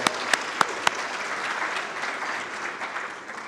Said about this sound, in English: let's give her a great round of applause for that